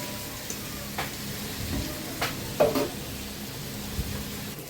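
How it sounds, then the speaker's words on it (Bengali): Frying in oil with turmeric produces a soft, constant sizzle, broken by a few scraping stirs of a utensil against the pan, close-up with no talking. "একটু লাল লাল করে ভেজে নিই"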